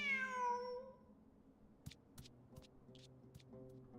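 A video game cat gives one clear, close meow at the start, followed by quiet clicks and soft chimes.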